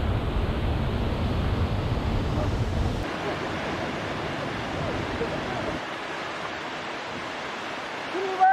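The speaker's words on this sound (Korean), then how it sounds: "폭포 짱." A waterfall in Yongchu Valley pours as a steady, loud broadband rush of water, fairly close, with the low roar easing after a few seconds into a softer hiss.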